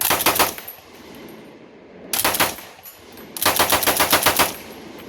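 Bren MKII World War II light machine gun fires three rapid bursts, loud and close, with short pauses between them and no talking.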